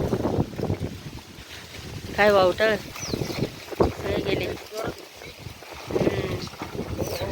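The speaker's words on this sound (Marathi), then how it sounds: "बापरे, काय वावटळ." A summer whirlwind gusts through a garden with young coconut palms, buffeting the microphone with rough, rumbling wind noise that swells and falls while people talk over it.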